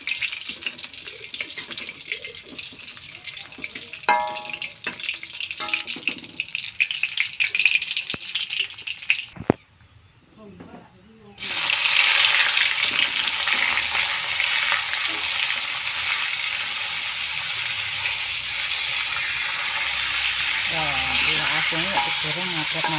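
Salted fish (iwak asin) frying in a pan, a steady loud sizzle that drops out briefly and returns, with earlier clinks and bubbling, close by.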